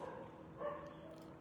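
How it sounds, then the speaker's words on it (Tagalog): Dog barking somewhere in the background, a faint brief yip or bow-wow that rises once mid-clip over a low steady hum. "maingay na yung aso."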